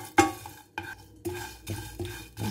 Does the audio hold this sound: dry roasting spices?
yes